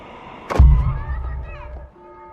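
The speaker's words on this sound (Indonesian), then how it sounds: "Yeonjin langsung menembakkan peluru." A single loud, close gunshot from an action film hits with a sharp blast and a booming low tail that rings out for over a second before cutting off.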